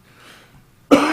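A single sharp cough from a man bursts in near the end after a moment of near silence, loud and close to the microphone.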